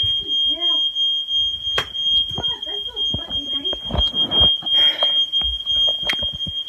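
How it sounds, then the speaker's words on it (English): An indoor fire alarm keeps sounding with no fire, a continuous piercing high-pitched tone that runs the whole time beneath a person talking and moving around. "The fire alarm won't go off. There's no smokes. There's no fire."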